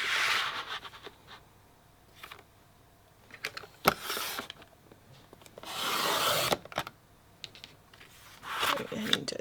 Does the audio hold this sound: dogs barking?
no